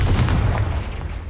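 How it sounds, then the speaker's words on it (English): Explosive Confringo spell going off in a wizard video game, a loud, dense blast that fills the short moment with booming, crackling bursts and a rumbling tail. "Confringo!"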